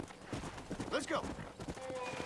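Horse hooves clatter in a quick rhythmic clip-clop in the video game Red Dead Redemption, fairly faint and brief beneath a person talking.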